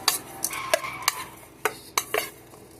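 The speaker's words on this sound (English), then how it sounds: "Stir it in." Spoon stirring Marry Me Chicken mixture in a pot, giving a series of sharp, separate clinks and scrapes spaced irregularly, close and fairly quiet, with no talking.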